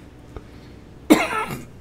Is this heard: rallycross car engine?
no